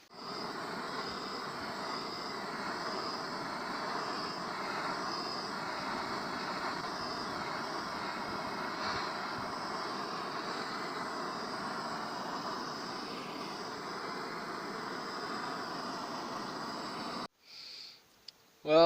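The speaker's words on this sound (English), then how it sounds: "maybe I'll go get the torch or something and warm up" A propane torch warms a cold steel blade of a homemade 60-inch ATV snow plow outdoors in winter, giving a steady, close, continuous roaring hiss for about seventeen seconds before cutting off abruptly.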